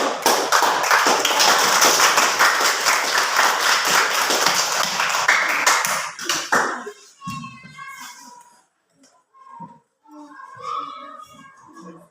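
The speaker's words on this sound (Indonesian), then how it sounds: "Sekali lagi kita berikan tepuk tangan yang" Classroom of children claps for presenting groups, dense broadband clapping for about six seconds that then stops abruptly, followed by quieter scattered sounds and a voice.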